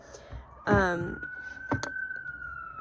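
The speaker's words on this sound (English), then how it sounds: "can you hear the sirens screaming outside?" A siren wails at a steady pitch across the whole stretch, sounding somewhat distant, while a voice briefly speaks over it and a couple of sharp clicks cut in.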